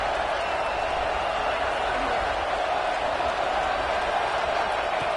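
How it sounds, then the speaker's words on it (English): A dense, steady roar rises from a football stadium crowd urging the defense toward a red zone stop at an Oregon versus USC game, loud and unbroken throughout. "And here comes the noise. This crowd is trying to inspire this defense to make a big red zone stop."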